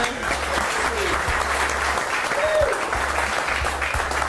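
An audience at a car detailing class gives a round of applause for cameraman Yancey, a continuous crowd clapping with a low pulsing hum underneath and a brief faint tone in the middle.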